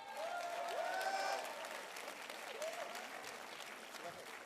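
Audience applause at a gala show, a crowd clapping steadily and moderately loud, with cheers and a whistle-like voice rising over it early on.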